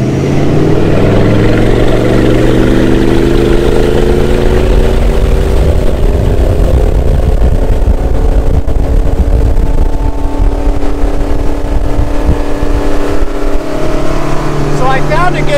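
A Four Winns Horizon boat with a big-block engine and captain's call exhaust roars loudly on the water, its tone climbing as it pulls away, with wind and water noise and a voice talking over it.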